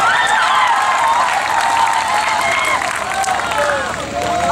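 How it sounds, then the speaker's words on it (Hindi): Sustained audience applause and cheering at a mushaira poetry gathering in Bara, Ghazipur, a loud dense crowd with whistles and shouts running steadily throughout. "एक मरतबा जोरदार तालियां बजाया करेंगे।"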